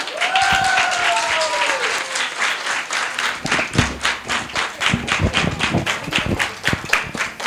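Audience applause at the Karachi literature festival fills the whole stretch as dense, steady clapping from a crowd, with a few voices rising over it near the start.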